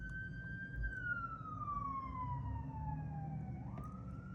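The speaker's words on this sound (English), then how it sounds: "Oh, do you hear that ambulance?" An ambulance siren passing by at a distance, a steady wailing tone that slowly drops in pitch as it goes, over low road rumble.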